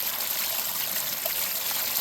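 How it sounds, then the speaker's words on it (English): Running water from a garden pond waterfall, a steady broadband splash and trickle that stays even throughout, close and fairly loud, with no voices. "Okay, back to the waterfall."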